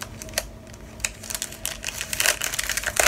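Crinkly plastic packaging around postage stamps is handled up close, giving a run of dry rustles and sharp crackles that grow denser and louder toward the end, with no talk.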